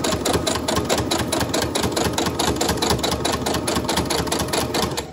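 A sewing machine runs loud and close, stitching the fabric corner of a bookmark with a fast, even mechanical chatter of needle strokes throughout, without any voices.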